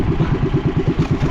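A motorcycle engine running roughly and unevenly, its low, pulsing chug surging in an irregular rhythm close by, with no voices.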